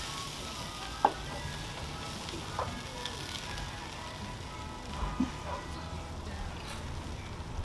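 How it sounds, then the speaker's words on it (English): BBQ chicken with crisping skin sizzles in a steady, even hiss, with a few faint clicks and clinks over a quiet background. "See how it's sizzling?"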